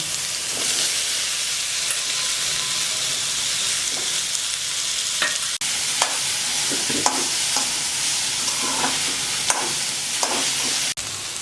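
Okra frying in a pan with mustard seeds and a ground spice paste gives a steady, close sizzle and hiss, punctuated by occasional clinks and scrapes of stirring, with no one speaking.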